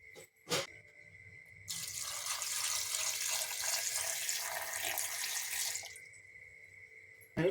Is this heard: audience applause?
no